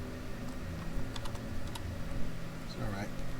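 Keys clacking on a computer keyboard while entering an Excel formula, a quick irregular run of taps over a steady low hum, with a voice talking underneath.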